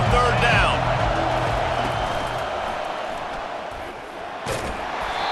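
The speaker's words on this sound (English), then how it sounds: "Decibels rising as the crowd gets behind this defense on 3rd down" Stadium crowd in the College Football 25 video game roaring behind the defense on third down, a broad wash of cheering that swells loudest at first and then eases, with a commentator talking over it.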